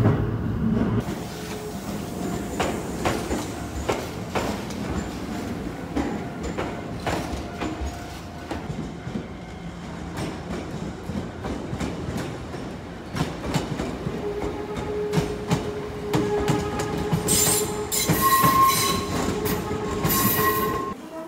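Shizuoka Railway commuter train running from Shin-Shizuoka to Shin-Shimizu, heard from inside the car: steady rumble with rhythmic wheel clicks over rail joints, occasional squeals and a brief chime near the end.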